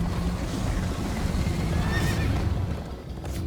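A horse in Minecraft: Story Mode whinnies amid steady hoof clip-clop and a broad rushing background, the neigh rising briefly mid-stretch with no talk over it.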